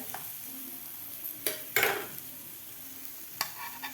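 A mini potato pizza with melted cheese is lifted out of a pan into a dish, giving a few sharp scraping clatters over a soft background sizzle.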